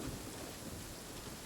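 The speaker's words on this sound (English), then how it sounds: "Why does there have to be a storm there?" A steady, faint wash of rain with a low rumble of thunder during a storm at sea in Genshin Impact, continuous and without talk.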